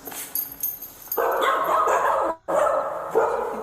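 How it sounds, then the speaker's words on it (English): A small dog yips and barks in a house during a Super Bowl party. The sound is close and steady, with a brief pause partway through and some background noise. "You're a cute little dog."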